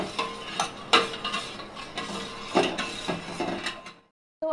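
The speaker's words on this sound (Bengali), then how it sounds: "তো এটাকে এখন কনস্ট্যান্টলি এটাকে নাড়তে হবে যাতে সুগারটা খুব ভালোভাবে মিক্স করে যায় দুধের সাথে।" A spoon stirring sugar into milk in a pot for fruit custard, close-up scraping strokes in an irregular rhythm, fairly quiet, stopping abruptly just before the end.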